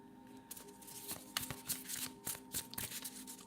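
Tarot cards shuffled by hand, heard as a series of soft, close riffling flutters and papery slaps in an uneven rhythm, quiet with no talking.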